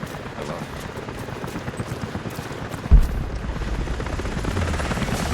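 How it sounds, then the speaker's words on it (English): Steady low rumble of a helicopter's rotor in the video game Rise of the Tomb Raider, with a sudden sharp thud near the middle; no talking. "helicopters are headed your way"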